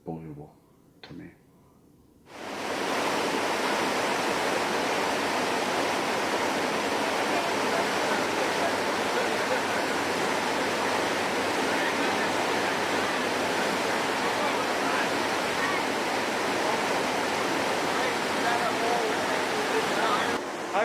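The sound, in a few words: river water rushing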